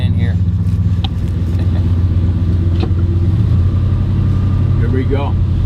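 A car engine running steadily while driving into a lot, a loud continuous low hum with occasional light rattles and clicks, with someone talking over it.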